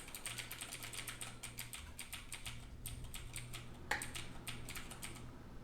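Computer keyboard keys, mainly W, S, A and D, tapped in quick uneven bursts close up, with a low steady hum underneath and one sharper click near the end.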